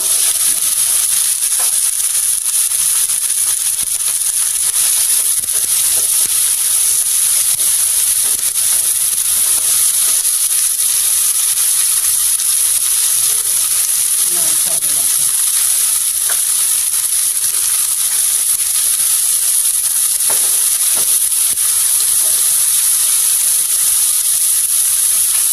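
Okra frying in oil in a pan for a home-style egg and bhindi dish, giving a steady close hiss and sizzle throughout with faint stirring clicks and no talking.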